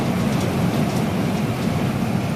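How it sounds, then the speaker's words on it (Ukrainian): Heavy hailstorm with pea-sized hailstones and pouring rain on a May day, heard as a dense, unbroken hiss and rattle that stays loud and even throughout, with no talking. "подивіться, який град. Як горох."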